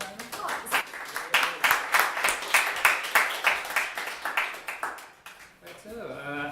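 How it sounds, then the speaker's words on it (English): A conference audience gives a presenter a round of welcoming applause, with dense, steady clapping that swells and then fades, ending with a voice starting to speak. "let's welcome him with a round of applause"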